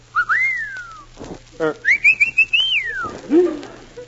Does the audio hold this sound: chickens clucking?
no